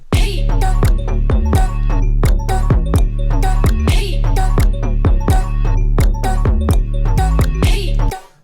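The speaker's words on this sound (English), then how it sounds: "this is like a kind of like a synth riser that's played one note." A bright synthesized tone repeats one note over and over in quick, steady pulses, loud and close, with a chiming, bell-like edge.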